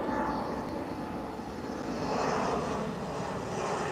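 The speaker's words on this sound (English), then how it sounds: "Got the landing gear down." An airplane comes in to land with its landing gear down, its engine producing a continuous broad roar that holds steady and moderately loud with no voices.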